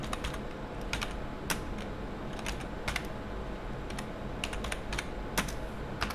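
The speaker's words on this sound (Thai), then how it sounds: "ให้เพื่อนๆทำการพิมพ์คำว่า line console 0 นะครับ" Keys clatter on a computer keyboard as a Cisco switch configuration command is typed, crisp irregular clicks in short bursts and pauses, close by over a faint background hiss with no voices.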